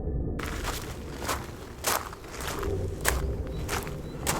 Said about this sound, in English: Footsteps in the gravel again, louder this time.